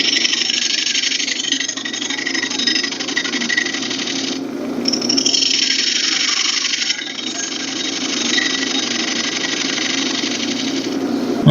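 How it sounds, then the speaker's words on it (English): Wood lathe spinning a bowl blank while a 1/4 inch bowl gouge rounds the tenon, a steady motor hum with continuous scraping and cutting hiss, close and fairly loud. "use my small 1/4 inch bowl gouge, and all I want to do is get the tenon round"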